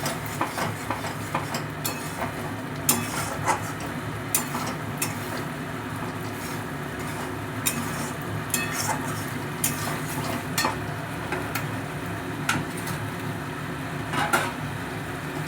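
Pomfret pieces go into a curd sauce frying in a pan, giving a steady sizzle with scattered clinks and scrapes of a utensil against the metal, fairly close, with no talk.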